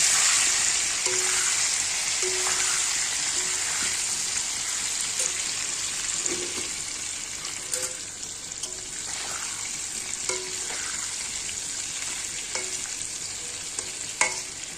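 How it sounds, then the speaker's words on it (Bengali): Potatoes frying in oil with salt and turmeric until browned for a mutton curry, a steady close sizzle with occasional spoon scrapes and stirring knocks, and no talk. "আলুটা লাল করে ভেজে নেব।"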